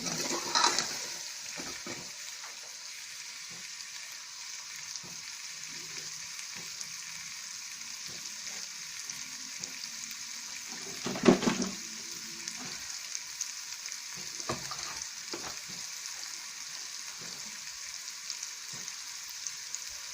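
Boiled chickpeas fry in a pan with a soft, low continuous sizzle, broken by occasional stirring clatters and one louder scrape partway through.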